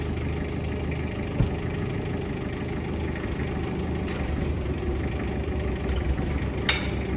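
A Komatsu 3-ton forklift's diesel engine idles nearby in a steady, even low rumble, with a faint knocking texture and a couple of small clunks, no talking over it.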